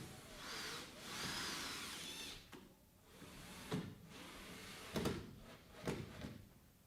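A power drill drives screws into the compensating channel of a bi-fold glass door being installed, in several short whirring bursts with pauses between, fairly faint.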